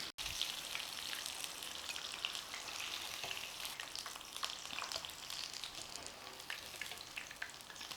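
Prawns deep fry in hot oil with a dense, even crackling sizzle that runs close and continuous after a brief opening bump, no voices over it.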